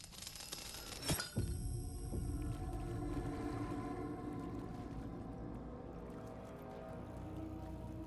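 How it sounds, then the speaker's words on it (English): Water splashing in the game Alan Wake II, a sharp splash near the start followed by a sustained low watery rumble and drifting tonal ambience that fades gradually. "I heard splashing."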